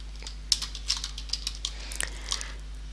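A computer keyboard is typed on while an online form is filled in, giving quick, irregular clicks and taps up close over a steady low hum, with no speech.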